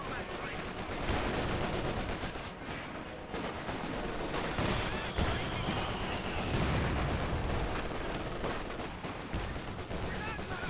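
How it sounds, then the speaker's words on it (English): An upgraded gun firing in Company of Heroes 2, with repeated bursts of gunfire and machine-gun rattle amid a dense battle din and distant heavy fire, continuing throughout. "Panspores now has his gun upgraded, firing away"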